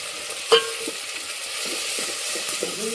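Spices for Rajasthani dal sauté in a pan, a steady close sizzle with one sharp utensil clink early on and soft stirring scrapes throughout.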